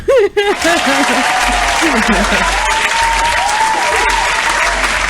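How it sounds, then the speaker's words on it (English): One person clapping for themselves during a lighthearted interview, quick claps under lively talk and laughter, with dense applause-like clatter continuing steadily to the end. "Let me clap for myself."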